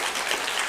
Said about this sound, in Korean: 박수로 환영하시기 바랍니다